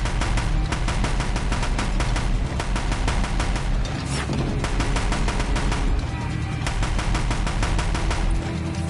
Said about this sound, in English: Let's try and get the machine guns.